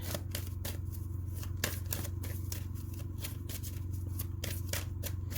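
Angel romance oracle cards being shuffled at a tarot table, a quick run of crisp riffling flicks and slaps repeating over a low steady hum, no talk.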